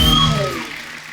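Studio audience applause on The Kapil Sharma Show, a TV comedy program, a loud burst of clapping that gradually thins and fades over about a second, with no talk over it.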